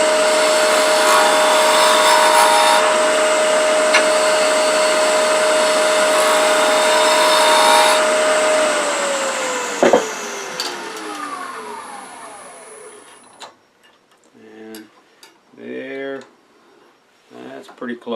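A wood lathe turning a wooden mouse, a loud steady motor whine with cutting noise that winds down and stops partway through, followed by a person speaking.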